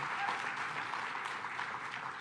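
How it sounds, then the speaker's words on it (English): Steady applause from the crowd at a New York floating pool announcement with the mayor and governor, dense clapping holding at an even level throughout. "Give a round of applause to the advocates who've been fighting for this for a long time."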